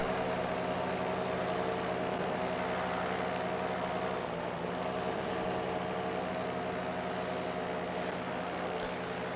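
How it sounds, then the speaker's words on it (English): A paramotor engine runs steadily in flight during a forced landing after an engine failure, a constant droning hum with layered tones, loud and unbroken throughout. "I'm trying to kill the engine right here, but it's not turning off"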